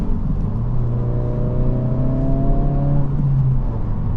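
A 2025 Honda Civic Si, turbocharged with about 200 horsepower, cruises through turns on wet pavement, its engine note a steady mid-pitched drone that rises slightly and then settles, heard close from inside with road noise beneath.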